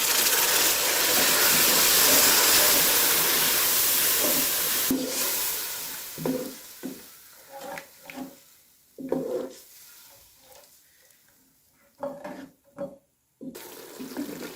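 Spices and water sizzle while frying for a beef bone curry: a loud, steady hiss for about five seconds, then breaking into uneven bursts of sputtering and quieter gaps.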